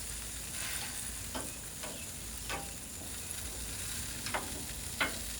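Lamb loin chops sear on a hot grill with a steady, close sizzling hiss, broken every second or so by short crackling pops from the fat.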